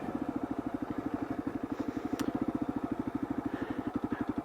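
A Kawasaki KLR650 single-cylinder motorcycle engine runs close by with a fast, steady thumping beat under throttle, holding an even pulse for several seconds.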